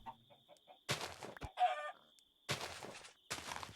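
A chicken clucks in a modded farming video game: a few soft, quiet clucks, then loud broken bursts of clucking and squawks, all close and with no speech.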